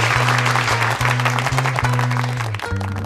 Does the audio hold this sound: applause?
yes